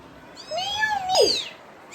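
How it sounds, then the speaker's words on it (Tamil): A kitten gives two short, rising-then-falling meows, close and clear in a quiet indoor room at a family's new home. "குட்டி பூனை குட்டி"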